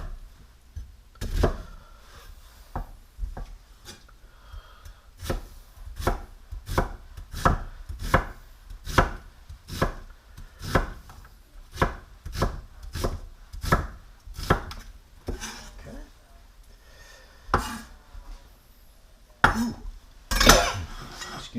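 A knife chops onion into small dice on a cutting board, with steady rhythmic taps in quick succession, close and crisp, pausing briefly before a few final heavier chops.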